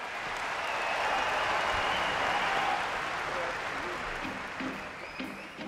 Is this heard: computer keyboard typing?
no